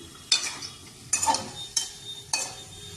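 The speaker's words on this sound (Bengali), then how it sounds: "আমি কড়ার মধ্যে তেল দিয়ে জিরে ফোড়ন দিয়ে আলুগুলো লাল করে ভেজে নিচ্ছি।" Potatoes fry in oil with cumin in a wok, giving a soft continuous sizzle broken by four sharp, bright bursts of spatula stirring and scraping at even intervals.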